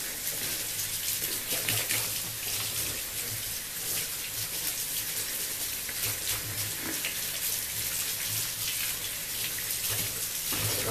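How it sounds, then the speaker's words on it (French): Gloves rinsed under a running tap after hair henna application, a steady close rush of water with splashing and spattering that continues evenly throughout, with no voices. "je vais rincer mes gants"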